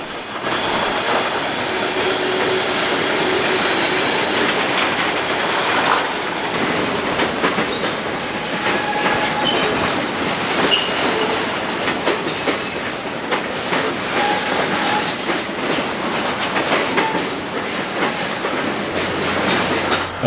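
A CSX or Norfolk Southern local freight train crossing the Tennessee River bridge at Decatur, Alabama, rumbling and clattering steadily and loudly for the whole stretch, with rhythmic wheel clicks over rail joints and no voices.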